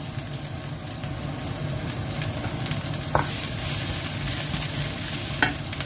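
Onion, green chilli and capsicum frying in a pan with garlic, giving a steady close sizzle with occasional stirring scrapes and a couple of sharp clinks, no one speaking.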